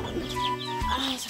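A chicken clucks close by in a short run of throaty, clipped calls.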